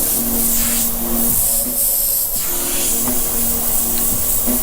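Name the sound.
airbrush spraying paint on a T-shirt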